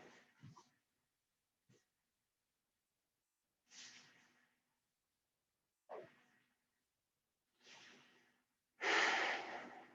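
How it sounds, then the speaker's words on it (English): Slow, audible breaths while lying face down in yoga crocodile pose, several soft inhales and exhales spaced a couple of seconds apart, close and quiet, ending with a fuller, louder exhale. "Take a couple breaths here."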